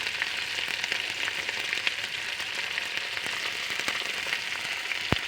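Ground spice paste frying in hot oil, a dense, even hiss of fine crackles like light rain, close and steady, with a single sharp tap near the end.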